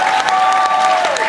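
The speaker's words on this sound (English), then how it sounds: "listen to the applause." Audience applause at a Butlins holiday camp stage show, a dense steady wash of clapping from a crowd filling the whole short stretch, loud and close with a few faint voices mixed in.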